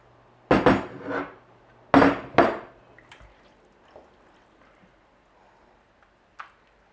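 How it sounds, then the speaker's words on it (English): Rinsed long grain parboiled rice poured into a metal pot for tomato rice: a few bright clattering rattles of grains hitting the pot in quick bursts, then quiet with a faint late tap, no talking. "And we add the rice, the rinsed rice, and that's 4 cups of long grain parboiled rice."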